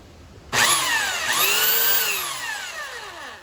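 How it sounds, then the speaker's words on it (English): A belt sander clamped upside down on a sawhorse and grinding a saw-blade knife template, starting abruptly with a loud, close whine and rasp that shifts in pitch as the metal is worked, sustained without any talk. "I got my belt sander kind of clamped down"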